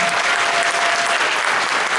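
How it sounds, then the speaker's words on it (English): Steady, dense applause from a concert audience at a high school jazz ensemble performance, continuous and loud throughout with no pauses. "Give another round of applause"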